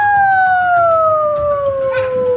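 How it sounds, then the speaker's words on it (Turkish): A dog howls loudly and close, one long sustained tone that slowly slides lower, with faint background noise underneath. "Köpekçik."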